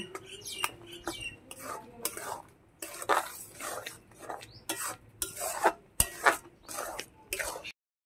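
A spoon stirring thick, sticky mango jelly in a pan at home, with irregular scraping and clinking strokes at a quiet level under intermittent speech.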